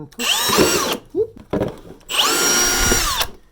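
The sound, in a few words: power drill drilling holes in plastic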